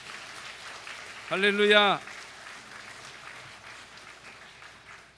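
A crowd claps steadily in a large church while a voice calls out briefly over the applause.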